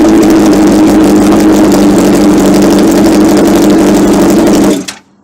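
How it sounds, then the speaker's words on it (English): A motorcycle engine runs with no exhaust fitted while a Yoshimura exhaust is being installed, producing a loud, raw, steady drone close by that cuts off abruptly near the end. "I'm gonna go ahead and do no exhaust startup."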